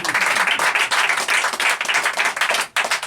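A close-up magic audience claps hard and fast after a card trick, a dense burst of applause that briefly dips near the end before picking up again.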